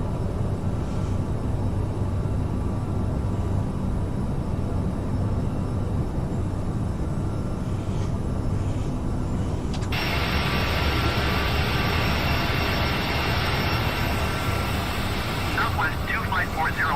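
Simulated CRJ regional jet in Microsoft Flight Simulator, a loud continuous engine roar that stays steady, then jumps to a brighter, higher whine partway through, with talk running throughout.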